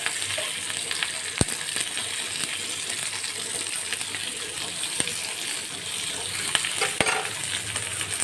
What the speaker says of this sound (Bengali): উল্টে পাল্টে লাল লাল করে ভেজে নিচ্ছি